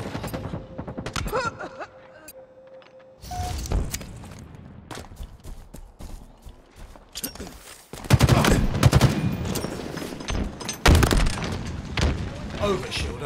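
Heavy gunfire in Halo Infinite ranked multiplayer on Xbox Series X, scattered shots at first, then dense, loud bursts and rapid automatic fire with booms in the later half, voices briefly heard.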